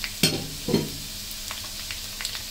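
Three dried red chilies fry lightly in oil alongside browning garlic, giving a close, soft sizzle with two sharper bursts of stirring and spattering near the start, then a quieter, steady crackle.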